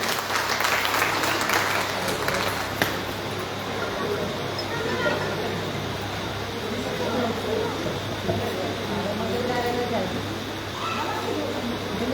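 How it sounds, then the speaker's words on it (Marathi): An audience applauds steadily throughout at a Women's Day journalists' association event in Kamshet, welcoming a guest to the stage, with some voices and crowd murmur under the clapping. "एकदा ताईंसाठी जोरदार टाळ्या वाजवायच्या आहेत"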